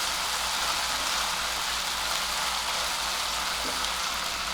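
Garlic and green chili paste frying in a pan for pav bhaji, a steady broadband sizzle that holds evenly throughout with no talking.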